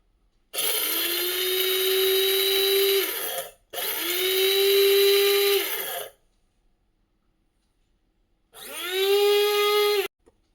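An electric mixie grinder whirs loudly through coriander seeds in three bursts, each starting with a rising motor whine and cutting off cleanly, with silent pauses between; the last burst is shorter.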